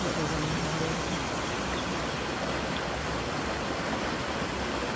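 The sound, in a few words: water rushing through a creek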